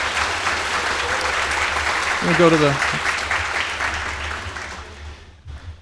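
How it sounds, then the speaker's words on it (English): Audience applause at a fall convocation, a steady wash of clapping from a large indoor crowd that tapers off near the end, with a brief spoken phrase over it. "let's give a round of applause for any of our temporary employees who've joined us today as well"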